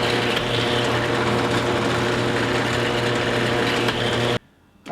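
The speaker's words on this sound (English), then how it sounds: "I'm over at the drill press getting ready to drill all of my entry holes" A drill press bores small entry holes through a wooden scroll saw ornament blank, giving a steady, loud motor whine with a continuous hum that runs for about four seconds and then cuts off abruptly into near silence.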